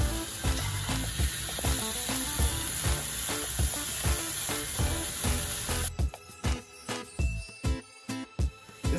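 Chicken sizzles and fries steadily in a pan, a loud continuous crackle that drops away partway through, leaving repeated close clanks and taps of utensils and cookware.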